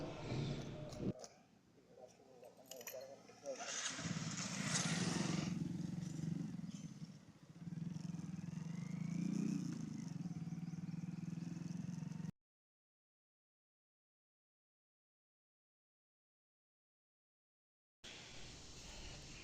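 A motorcycle ridden on a street while heading to pick up an Uber bike-taxi customer, its engine droning steadily with clatter and shifting revs, cutting out into a silent gap before returning briefly near the end.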